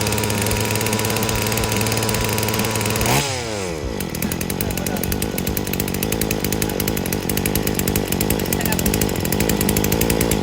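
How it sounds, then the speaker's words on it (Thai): A EURO 1700+ chainsaw starts with a rough, chugging crank, then catches and runs at a loud, steady high-pitched engine whine close by. "แล้วสตาร์ทนะครับ มันจะดังอยู่ปุ๊บปุ๊บปุ๊บมาติดแล้ว"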